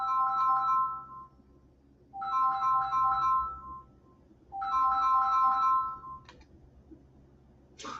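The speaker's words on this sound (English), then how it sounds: "And now it's ringing." A phone ringtone chimes in three repeated bursts of electronic melody separated by short pauses, fairly clear against a quiet background with no talking.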